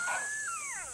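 A wild dog calls out at night in a quick, faint series of high, thin wavering whines that slide downward, set against a constant high insect-like hiss.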